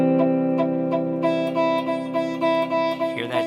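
A guitar chord rings tinny and thin because the fretting hand is not playing on its fingertips. The strings are picked repeatedly in a light, steady pattern, with a brief scrape near the end and no talking.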